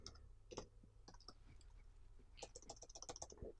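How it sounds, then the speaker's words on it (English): Clicking keystrokes on a computer keyboard, irregular bursts of quick taps with short pauses between them, faint and close in a quiet room. "Excuse my typing."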